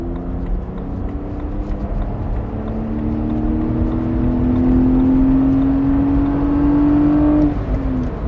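A BMW 130i E87 engine idles and then revs up smoothly, its pitch climbing steadily before dropping back, heard up close with no talking.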